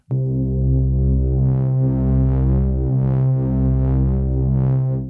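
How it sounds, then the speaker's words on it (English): A sustained, buzzing synth tone from a Novation Circuit Tracks with distortion applied, a thick, gritty edge, droning steadily with subtle pulsing throughout. "We have various types of distortion here. Let's take a listen."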